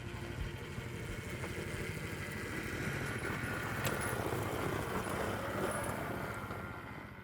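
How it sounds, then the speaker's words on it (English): A converted electric motorized sled, a motor dog, runs its transmission with a steady close mechanical drone and clatter that holds evenly throughout, with no voices. "the electric sled is much more better. It's almost noiseless. All we can hear is just the sound of the transmission."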